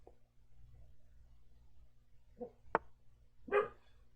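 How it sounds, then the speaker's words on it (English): A pet dog barks a few times indoors at a distance, short sharp woofs separated by quiet gaps, with a faint low household hum underneath. "Oh, my dog is barking."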